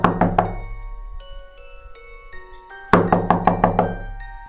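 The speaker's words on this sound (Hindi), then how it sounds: "सुबह सुबह घर के दरवाजे के ऊपर खटखटाहट होती है" Knocking on the door of a house early in the morning: a quick burst of three raps, a pause, then a longer run of six or so sharp, resonant knocks, close and loud, with no voices.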